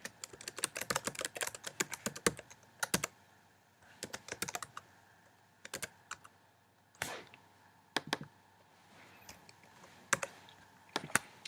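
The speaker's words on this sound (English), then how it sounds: "just keep typing everything I'm typing for this first line" Rapid clattering keystrokes on a computer keyboard come in bursts with short pauses, close up and with no talking.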